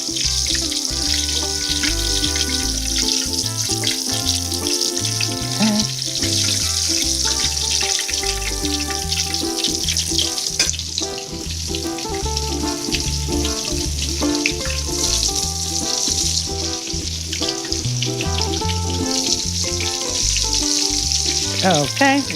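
Mozzarella sandwich skewers frying in hot oil, a loud continuous sizzle and crackle with rhythmic low bumps and clatter throughout, no talking.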